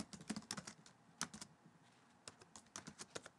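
Quiet typing on a computer keyboard, with irregular bursts of crisp key clicks separated by short pauses, heard alone.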